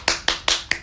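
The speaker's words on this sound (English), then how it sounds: "I am clapping" Four sharp hand claps ring out close by, evenly spaced about a fifth of a second apart, each a crisp slap that decays quickly into quiet.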